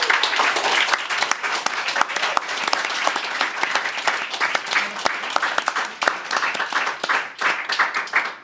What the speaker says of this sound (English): Please give them a warm round of applause.